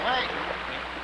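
Broad rushing water noise of a risen river in Bonaventure, Quebec, steady and moderately loud, heard close by without any speech.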